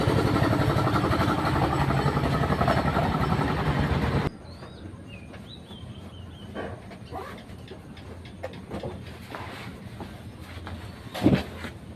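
A motorcycle engine runs loud and close in a village for about four seconds, then cuts off abruptly, leaving a quiet outdoor background with scattered bird chirps and a brief knock near the end.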